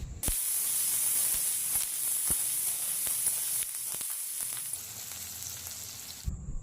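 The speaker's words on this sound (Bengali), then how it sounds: "এবার কুচি করে রাখা পেঁয়াজগুলো দিয়ে দিচ্ছি। এবার পেঁয়াজটা ভালো করে আমি লাল লাল করে ভেজে নেব।" Chopped onions fry in hot oil for prawn cutlets, making a loud, continuous, hissing sizzle punctuated by occasional sharp crackles and pops, close by and unbroken for several seconds.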